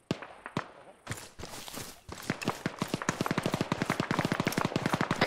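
Machine gun fire in ARMA 3 during a milsim PvP battle: a few scattered single shots at first, then a steady, fast rhythmic stream of rounds that grows louder and denser, sounding moderately close.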